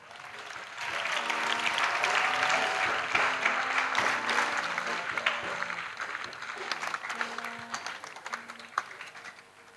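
Audience at an evangelism gathering applauding and cheering loudly and continuously for about ten seconds, a dense wash of clapping swelling early and holding steady, with occasional voices and a sustained tone in the background.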